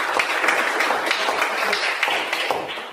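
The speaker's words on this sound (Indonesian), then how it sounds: "Tepuk tangan dulu untuk teman-temannya." Students in a classroom clap together in a short, dense burst of applause, close by and steady for a few seconds.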